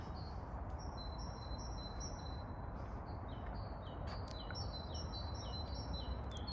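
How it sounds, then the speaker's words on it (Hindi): Small birds chirp and tweet in quick repeated high calls during a spring walk among daffodils in Bristol, sounding moderately near over a steady outdoor hiss of wind and distant traffic. "ये चिड़िया भी खुश है, मज़े में है।"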